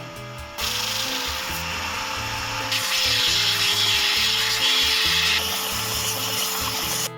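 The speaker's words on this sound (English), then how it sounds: "Then I'll just sand everything smooth and fit the buttering." A wooden warhammer handle is sanded smooth with steady, continuous rubbing and abrasive hiss, loud and close, with a brighter stretch in the middle and no talking.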